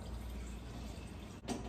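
Water is poured into a hot pan for churro dough, a faint, brief splashing and bubbling hiss with a short break before the flow resumes.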